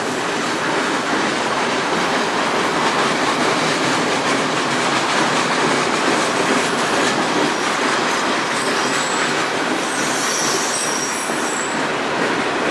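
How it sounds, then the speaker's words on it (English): A long freight train rumbling past close by, loud and continuous, with rattling wheels and a high metallic squeal partway through. "It's a big train though"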